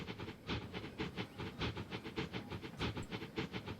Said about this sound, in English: Bring this train across.